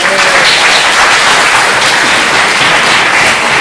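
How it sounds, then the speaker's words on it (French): A lecture hall audience at a talk on creationism and conspiracy thinking bursts into loud, dense, continuous applause that holds steady throughout, with no voices over it. "Bon, merci, on applaudit Lucas."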